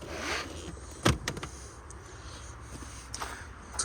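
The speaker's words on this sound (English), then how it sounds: "To close the boot, simply press the button and let the car do it for me." Power tailgate of a BMW 318d M-Sport Touring F31 estate closing by button, a soft electric motor whir ending in a sharp latch thunk, then quieter clicks as it seals, heard close with no talk.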